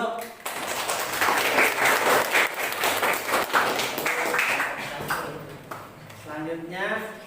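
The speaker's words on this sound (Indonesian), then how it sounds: "Tepuk tangan dulu." A classroom group claps for several seconds, a steady patter of applause with a few sharper claps mixed in.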